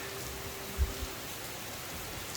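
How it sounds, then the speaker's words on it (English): Rain pouring steadily outside a farm house in typhoon season, a dense even hiss of falling water filling the whole clip, with a couple of faint low thumps early on and no talking. "As much as I love this rain, it's time to go in."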